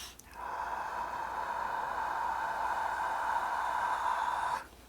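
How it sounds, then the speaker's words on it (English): A long, steady deep inhalation during a yoga breathing practice, close and continuous for about four seconds, alone with no talk. "and we just breathe in."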